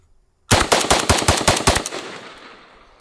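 A Palmetto State Armory GF3 5.56 AK rifle fires a rapid string of about a dozen loud, close shots, then the echo fades into silence after the last round.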